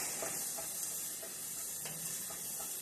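Food sautéing in a pan while making shrimp with creamy coconut sauce, a steady soft sizzle and hiss with faint stirring clicks, constant and close throughout.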